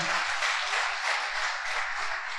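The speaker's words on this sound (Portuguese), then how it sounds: "Dê forte esse aplauso ao Rei." Church congregation applauding together, a steady dense wash of many hands clapping that holds evenly throughout without a break.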